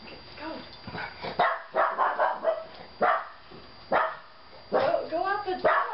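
A dog barks repeatedly indoors near a back dog door, a series of sharp close barks and yips in uneven bursts, with people talking in the background between them.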